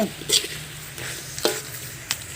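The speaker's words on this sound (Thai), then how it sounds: "อ่าคั่วไปเรื่อยๆพี่น้อง" Chicken and egg are stir-fried in a pan, a low sizzle broken by a few sharp scrapes and taps of the utensil at irregular intervals, close and fairly quiet, with no talking.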